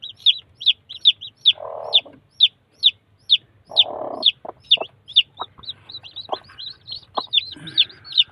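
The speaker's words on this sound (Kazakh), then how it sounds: "Міне 1-2 сағаттық балапандар мыналар." Mother hen clucking softly beside chicks only an hour or two old, a fast run of high peeping chirps from the chicks over low, throaty hen clucks, all close and clear.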